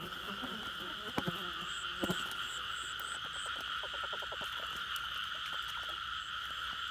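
Frogs croak in a wet night field, a dense chorus of rapid clicking, rattling calls close by, with a steady high insect drone running underneath throughout.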